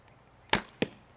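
A sharp snap of a bow release with a string tracker attached, followed by a second crisp thwack a moment later, then another faint knock, all short and close against a quiet background.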